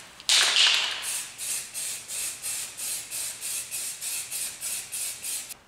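Spray paint goes onto Mazda Miata wheels for a second coat. A long hissing burst is followed by a regular series of short, even spray bursts close by.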